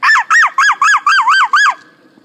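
A human voice imitates a honking bird, giving seven loud, close, evenly spaced nasal honks in quick succession, then falling silent.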